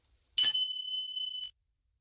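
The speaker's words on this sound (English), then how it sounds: "Tibetan chimes" Tibetan chimes struck once, ringing with a bright, clear metallic tone that sustains for about a second before being damped, preceded by a tiny faint tap; heard alone with no talk.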